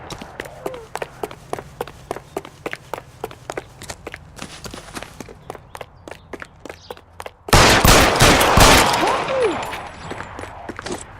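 Sharp gunshots ring out in a 1940s Los Angeles police game, a steady series of loud, close, evenly spaced cracks that give way to a sudden dense, roaring burst of sustained fire.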